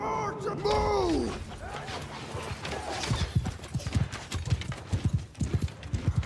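Mounted archers' horses in a Nord-themed strategy video game, a rhythmic clip-clop of hooves building up with a brief whinny early on, moderately close under a voice speaking.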